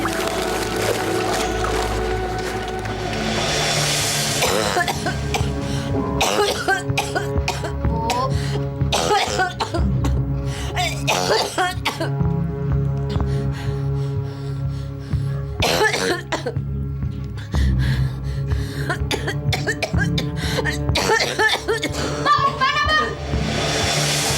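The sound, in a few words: woman coughing badly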